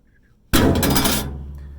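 A hammer slams into a weld on a Samsung dryer, one sudden loud metallic strike that rings and rattles through the cabinet before slowly fading.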